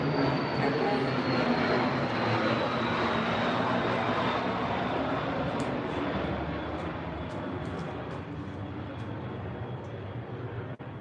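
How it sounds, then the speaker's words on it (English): A fixed-wing airplane passes overhead as a broad steady roar that slowly fades, with a faint rising whine and a few small clicks near the end. "There was an airplane."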